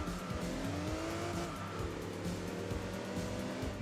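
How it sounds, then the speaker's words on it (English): Touring cars race in Enthusia Professional Racing, with several engines droning and shifting pitch steadily up close and tires squealing under them, and no talk over the noise. "BTC touring cars racing."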